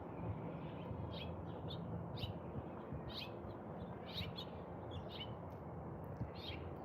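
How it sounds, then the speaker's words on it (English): Birds chirp outside in quick, high, repeated calls scattered across the whole stretch, fairly distant over a steady background hiss. "You hear the birds?"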